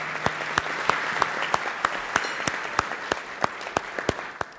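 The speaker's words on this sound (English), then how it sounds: "give our sponsors a round of applause" An audience at the Portsmouth, Virginia State of the City Address applauds its sponsors at the Renaissance Portsmouth Hotel, with moderate steady clapping punctuated by sharper individual claps.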